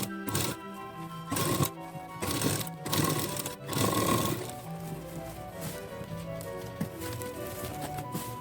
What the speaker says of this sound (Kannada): ಇದನ್ನು ಅದರ ಮೇಲ್ಗಡೆ ಹೀಗೆ ಹಾಕಿ ಸ್ಟಿಚ್ ಮಾಡ್ಕೊಳ್ಳೋಣ